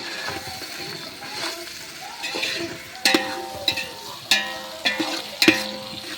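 Onions and bullet green chillies being stirred with a large ladle in a pot for biryani, heard as soft sizzling and shuffling that gives way to a run of sharp metallic scrapes and clinks in the second half.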